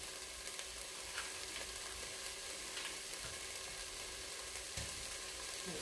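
Butter melting in a hot pot for chicken pot pie chowder gives a steady, soft sizzle. It runs evenly throughout, with occasional faint pops and nobody talking.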